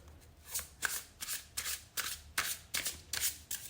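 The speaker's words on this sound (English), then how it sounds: "Let's pull out your tarot cards." Tarot cards being handled and shuffled: a quiet, close series of soft riffling bursts that come in an uneven rhythm, with no voices.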